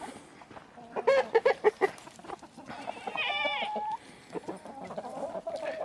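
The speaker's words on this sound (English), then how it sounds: "You get a shot of the chickens all coming to see me." Chickens cluck and squawk in a series of sharp close calls as they gather on a fall homestead, with a rising, longer call partway through and further clucking trailing off.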